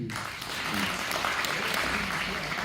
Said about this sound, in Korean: 동의하시면 박수 한번 주셔야 돼요